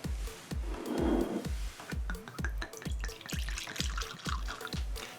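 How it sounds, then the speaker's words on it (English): Boyd & Blair potato vodka poured into a glass, a soft liquid trickle with a run of quiet, evenly spaced clinks and drips, close and faint. "That's always my second favorite part, the sound and just the alcohol going into the glass"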